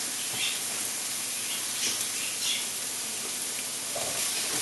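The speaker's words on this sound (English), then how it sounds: "Let's soften the peppers whilst continuing to brown the onions." Peppers and onions frying in a pan, a steady close crackling sizzle with small pops, continuous throughout with no voices.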